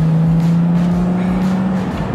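An Alfa Romeo GTV with the V6 Busso engine drives along, its engine holding a steady, loud hum close by with no voices over it.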